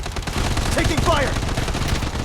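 Rapid automatic gunfire in the shooter video game Blood Strike, a dense continuous burst of close, heavy shots with a short voice call breaking through.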